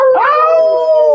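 Dogs howl in a sustained, rising wail that settles into a long steady tone, loud and close, with no talk over it.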